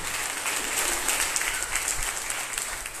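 Church congregation applauding during a worship service, a dense, steady wash of clapping from many hands that fills the room evenly throughout, with no voices standing out above it.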